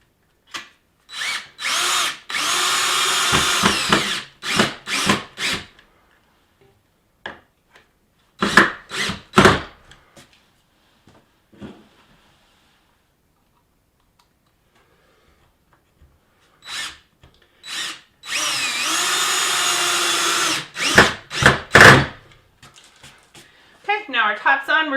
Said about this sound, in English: And then drill in our screws.